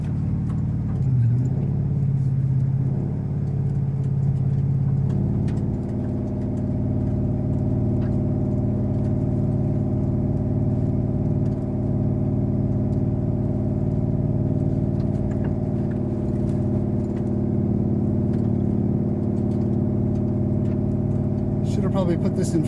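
A truck's engine labouring as it climbs a steep off-road hill in Arizona's volcanic backcountry, a steady droning hum that shifts to a deeper, stronger tone partway through and holds loud and close to the end.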